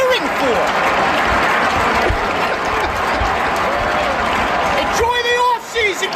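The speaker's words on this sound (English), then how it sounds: "What are we cheering for? What are you cheering for?" Stadium crowd roaring and applauding at Yankee Stadium during a baseball playoff game, a dense continuous wash of cheers and clapping, with rising whoops and whistles near the end.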